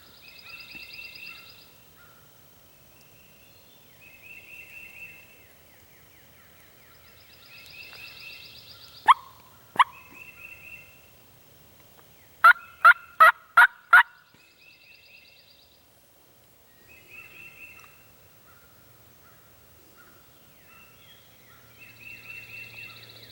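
Wild turkeys gobble in Georgia woods near a roost, with soft distant gobbles and yelps recurring throughout and a few sharp nearby bursts, including a rapid run of four or five loud calls midway.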